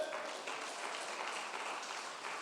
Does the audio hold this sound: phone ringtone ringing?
no